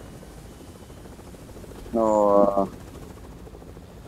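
Brief whirring rotor burst from a wooden helicopter flying in Fortnite, lasting under a second midway through the clip, with people talking over game background noise.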